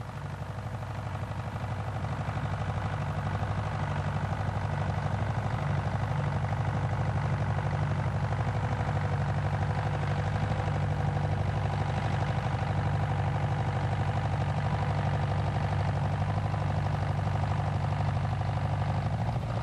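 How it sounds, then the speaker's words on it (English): A 1953 International Harvester Farmall Super BMD tractor engine running steadily, a deep low rumble with a constant chugging throb that holds even and loud throughout. "The Farmall Super BMD is a much later machine produced by International Harvester, being built in 1953."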